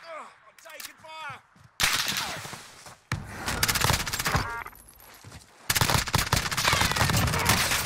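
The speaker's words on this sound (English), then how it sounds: "I'm taking fire!" Rapid bursts of automatic gunfire from the Call of Duty: Warzone video game, with an MP7 firing purple tracer rounds, come in loud, dense volleys broken by short pauses. Faint voices are heard early on.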